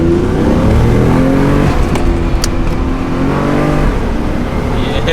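Toyota 1JZ engine with an HKS intake installed, a loud, close, rough engine note that climbs and falls through revving, with no talk.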